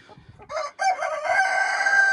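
Chickens in a pen, including newly introduced young hens, cluck and squawk close by, a brief crowing-like call rising out of the flock, with steady fowl noise continuing to the end.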